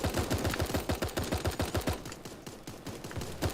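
Rapid bursts of SMG suppression fire in the game Super Animal World, loud and close, with a dense rattling rhythm that thins out and turns more sporadic partway through.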